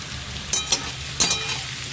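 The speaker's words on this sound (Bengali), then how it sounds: "এইটাকে আমি ভেজে নেব।" Chopped onions fry in a pan for ghugni, a steady hiss broken by a few sharp scraping stirs, close and alone without talk.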